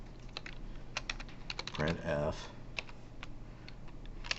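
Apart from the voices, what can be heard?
typing on a computer keyboard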